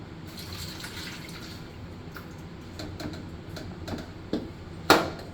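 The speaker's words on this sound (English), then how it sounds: "I started off by pouring 2 cups of vodka, so we're gonna go ahead and pour that in." Vodka poured from a bottle into a container for a party drink, a quiet steady liquid trickle ending with a couple of sharp clinks and knocks.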